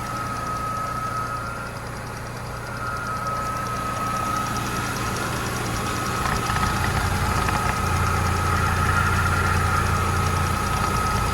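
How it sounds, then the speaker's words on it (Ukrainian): A Skoda Octavia engine idles steadily and loudly up close, with a faint rapid ticking from the adsorber valve riding over the low, continuous hum, and no voices. "Це в нас цокотить клапан отсорбер."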